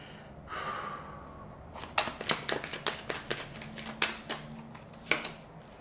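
Tarot cards shuffled by hand in a quiet room, a rapid run of crisp riffling snaps and flicks in uneven bursts, close and moderately loud, after a soft breathy rustle at the start.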